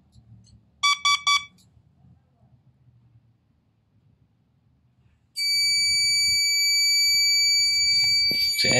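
An alarm panel armed with a timer relay sounds a few short electronic beeps, then after a pause its siren triggers into a loud, steady, piercing tone that continues to the end.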